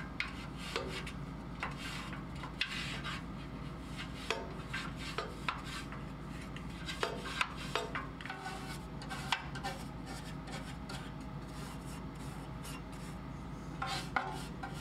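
Nylon brush scrubbing inside a pellet stove, a steady close rubbing rasp with scattered small knocks and scrapes, no talk.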